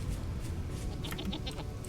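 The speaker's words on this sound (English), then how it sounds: "Oh, yeah, the goat. Forgot about the goat." A goat in the video game Vintage Story bleats in a few short, fairly faint calls over a dense, rumbling ambient background, with no talking.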